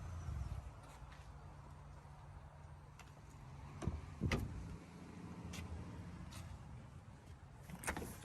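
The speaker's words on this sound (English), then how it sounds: "electric tailgate, you press that and it will go down on its own" The electric tailgate of a 2025 Toyota Yaris Cross Excel hybrid lowers with a low motor whir, followed by a soft thud and a sharp latching clunk at the end, recorded close by.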